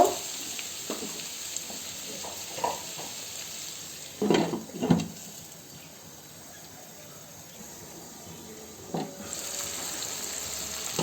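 Pumpkin with cumin sizzles in a pan in a soft, steady fry, broken by a few louder clatters of stirring around the middle before the hiss settles again.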